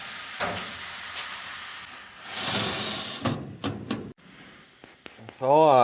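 Steady hissing from a maple syrup evaporator pan runs under scattered knocks and clicks, swelling briefly mid-way, with a voice speaking near the end.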